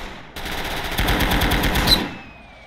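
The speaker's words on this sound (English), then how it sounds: "My god, that tank machine gun is very loud." A tank machine gun in the Gates of Hell: Ostfront war game fires a rapid, loud, chunky burst lasting about a second and a half, then stops abruptly, with no talking.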